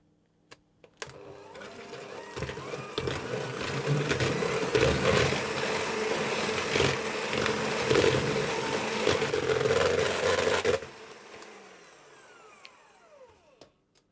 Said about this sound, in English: I'm going to add my egg yolks, whisking all the time.